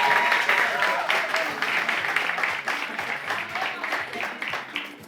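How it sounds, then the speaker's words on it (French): Studio audience applauding steadily for a television host's guest, a dense wash of clapping that holds for the whole stretch with a voice briefly audible beneath it. "ça s'applaudit évidemment"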